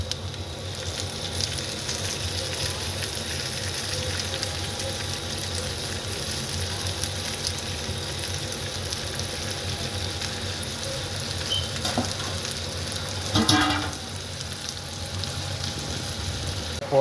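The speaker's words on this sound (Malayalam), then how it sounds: "പോർക്ക് ഫ്രൈ റെഡി ആയിക്കൊണ്ടിരിക്കുകയാണ്." Pork frying in a pan with onion and spices makes a steady, dense sizzle and crackle throughout, close and even, with a brief clatter of a utensil near the end and no speech.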